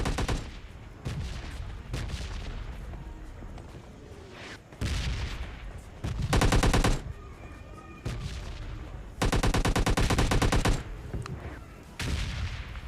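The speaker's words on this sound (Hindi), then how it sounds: "और अब की फील्ड में देखिए हमारे भाई M249 से कैसे वाइप कर रहे हैं स्क्वाड" M249 machine gun fire in the shooter game PUBG Lite: repeated loud bursts of rapid automatic shots, a couple of them long and sustained, separated by shorter volleys and brief lulls.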